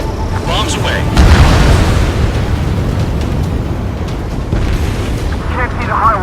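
Bombs dropped from an aircraft exploding on targets in Ace Combat 7, with heavy rumbling booms rolling under jet noise and radio chatter, swelling near the start and sustaining.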